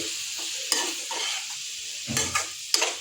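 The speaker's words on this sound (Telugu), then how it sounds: "ఇదంతా ఒకసారి కదుపుతున్నాను సన్నని ఫ్లేమ్లో పెట్టుకొని కలుపుకుంటూ ఉండాలండి" Bitter gourd with onion paste stirred in a pan over a low flame, a steady soft sizzle broken by a few sharp scraping strokes of the spoon against the pan, close and alone.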